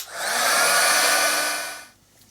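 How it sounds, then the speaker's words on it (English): A heat gun blowing hot air to dry paint on an art journal page, a loud, steady whooshing roar that swells up, holds for about a second and a half, then cuts off and fades. "Help it along a little bit with the heat gun."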